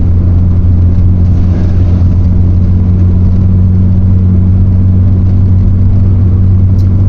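Vintage VW T3/T25 van engine pulling steadily uphill in third gear, a loud, continuous low rumble with a constant drone heard close from inside the cab, no talking.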